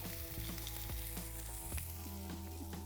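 Steady crackling sizzle of lamb lollipops searing on a hot Kamado Joe grill, close and continuous, with a low background hum.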